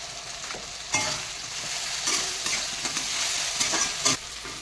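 Spices with salt and Kashmiri chili frying in a pan for a thin hilsa fish curry with eggplant and nigella seeds: a continuous close sizzle broken by a few sharp stirring scrapes, with no talking.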